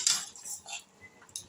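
A spatula scrapes and clatters in a pan as fried gugli snails are stirred with spinach and sugar, giving a few brief metallic clinks and scrapes that sound close up, with no talk.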